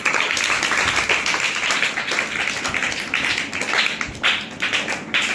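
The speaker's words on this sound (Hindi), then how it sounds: "अपने लिए ताली बजाओ सब।" Children in a classroom lesson clapping for themselves, a burst of quick, fairly close applause with uneven rhythm that continues through the clip without talk.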